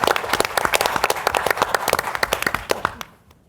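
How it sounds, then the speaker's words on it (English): A symposium audience breaks into a dense round of applause, loud and steady for about three seconds before quickly dying away to near silence. "I want to take the opportunity to lead a round of applause for Cami and the whole"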